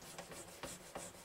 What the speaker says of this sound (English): And then I go over it with 2000 grit, I'll sand in circles again